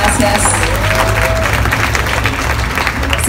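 Audience applause for the musicians at a fandango jarana gathering in Xalapa, a dense steady clapping that fills the room, with a low hum and some brief voices or a faint tone mixed in.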